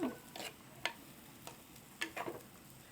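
Onions and green chillies sautéing in a pan, with intermittent scraping and ticking taps of a spoon stirring them over a soft background sizzle.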